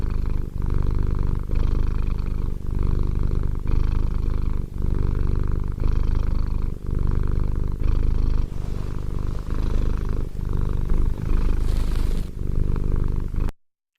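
A cat purrs up close in a loud, rumbling rhythm of repeated breathy cycles, each lasting about a second, continuing steadily for around thirteen seconds before cutting off.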